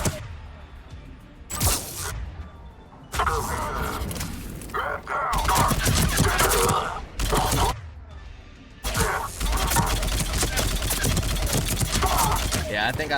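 Assault rifle fire in Mass Effect 3, with loud bursts of rapid automatic shots in several separate volleys broken by short gaps, close and punchy.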